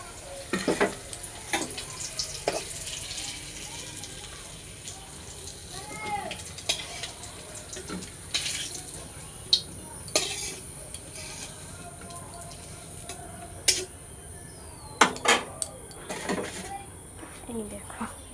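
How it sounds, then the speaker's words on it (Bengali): A spatula stirs fried teasel gourd (kakrol) in a pan, giving repeated scraping clicks and scrapes over a faint sizzle, with a few sharper metallic knocks. "এখন কাঁকরোল ভাজাটাকে নামিয়ে নেব।"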